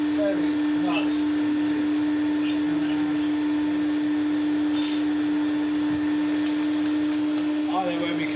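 A vintage 1983 Numatic NV250/NV350 vacuum cleaner runs with a steady, close motor drone and strong tonal whine, continuous throughout with a few faint clicks and brief chirps.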